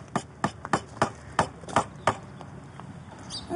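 A hammer drives nails into a small wooden ladybug house, giving about eight sharp, close knocks at an irregular, fairly quick pace, then a quieter pause, with no talking.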